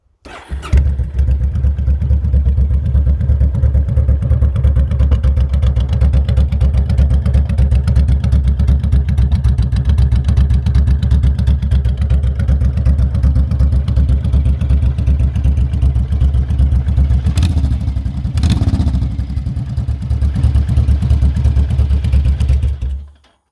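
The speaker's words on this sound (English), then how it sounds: "Alright, this is the after baffle removal" A Honda Fury motorcycle with a Cobra exhaust and its baffles removed idles loud and close with a deep, steady, throbbing rumble, and a couple of brief throttle blips come near the end.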